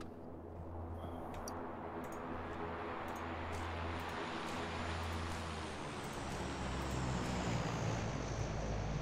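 A supply drop plane in the video game PUBG flies overhead, a steady, loud propeller-engine drone with a low hum that swells slightly toward the end, with no talking.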